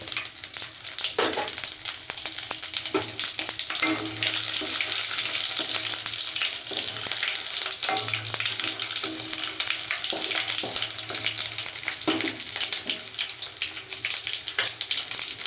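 Garlic and dried red chillies frying in hot oil for a drumstick curry, a loud continuous sizzle close to the microphone with intermittent scraping stirs and spatula knocks, and no speech.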